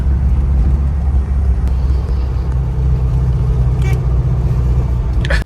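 A classic Volkswagen Beetle, an older car without power steering, drives along with a steady low engine and road rumble heard from inside the cabin, constant and fairly loud throughout.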